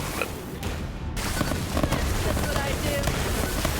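Grenade blasts erupt in rapid succession during Borderlands 3 combat, a dense, loud barrage of booms and crackling debris that continues with hardly a pause.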